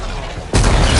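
A bomb goes off in Horizon Forbidden West, a sudden loud blast that cuts in halfway through after a quieter stretch and sustains a dense, rumbling roar to the end.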